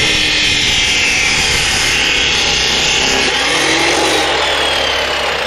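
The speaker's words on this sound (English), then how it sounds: "That hand grinder, a little uneven, so I decided to use my chop saw. Make sure I can get clean edges." Chop saw cutting metal stock for shop ceiling brackets, a loud, continuous abrasive grinding whine that holds steady through the whole stretch with no voices.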